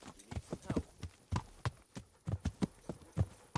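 Horse hooves clip-clopping in a steady, moderately loud rhythm while riding in the video game Kingdom Come: Deliverance, with no talk over them.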